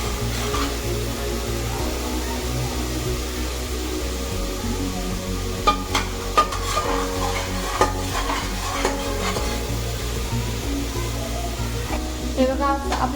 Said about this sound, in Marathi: कांदा हा चांगला लाल करून घेऊ